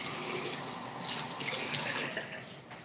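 Water runs steadily from a tap to wet a makeup brush, a close, hissing stream that briefly gets louder in the middle and then tapers off, with no talking.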